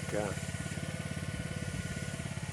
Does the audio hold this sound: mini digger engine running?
yes